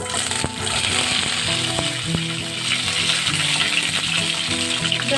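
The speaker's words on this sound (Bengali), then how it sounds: "তেলটা গরম হয়ে গেছে এবার আমি আলুগুলো দিয়ে দিচ্ছি" Potatoes fry in hot mustard oil in a kadai, a dense, steady sizzle holding at an even level throughout with a few faint clinks, and no talking.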